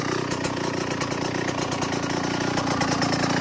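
A Yamaha YZ125 two-stroke dirt bike with a freshly rebuilt top end idles close by, giving a loud, steady, buzzy putter with no voices.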